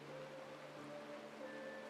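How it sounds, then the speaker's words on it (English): Steady soft rain falls in the video game Honkai Star Rail, a faint, even wash of hiss with a few quiet tonal music lines drifting over it. "This is the sound of rain."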